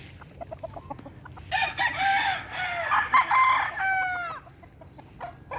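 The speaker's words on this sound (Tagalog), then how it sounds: "Kunti lang manok namin dito" A rooster on a farm crows loudly nearby, a long drawn-out call followed by a second crow, over a quiet outdoor background.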